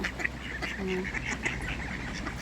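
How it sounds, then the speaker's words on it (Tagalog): Wild ducks quack repeatedly in a steady series of nasal calls, somewhat distant, over outdoor background noise. "Kwak, kwak, kwak daw."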